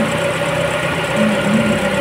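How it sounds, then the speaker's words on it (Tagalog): The air conditioning compressor of a Toyota Corolla runs with fluctuating pumping, heard as a steady close mechanical hum with a faint tone that rises and wavers slightly over two seconds. "Nagbabago-bago kasi yung bomba ng compressor natin."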